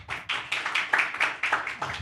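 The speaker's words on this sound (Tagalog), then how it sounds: "Palakpakan natin ang Panginoon." Congregation at a church service clapping in a quick, uneven rhythm of bright sharp claps, fairly close and loud, with no talk over it.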